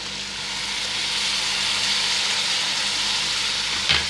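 Masala and tomatoes frying for chicken biryani give a steady, dense sizzle and crackle that holds loud and even throughout, with a brief clink of a utensil near the end.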